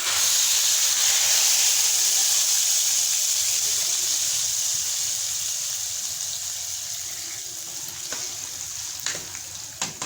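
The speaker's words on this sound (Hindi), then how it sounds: "ये देखिए मैं इसके अंदर तड़का लगा दूँ।" Hot tadka of cumin seeds and red chillies poured into a pot of kadhi, giving a loud steady sizzling hiss that slowly fades over several seconds, with a few faint clinks near the end.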